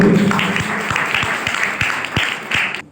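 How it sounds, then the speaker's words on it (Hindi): An audience at a talk on youth, peace and tolerance breaks into loud sustained applause, with individual claps standing out from the roar until it cuts off at the end. "मैं चाहता हूँ कि इनके लिए आप जोरदार तालियां दें।"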